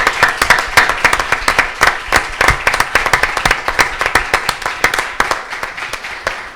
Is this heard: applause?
yes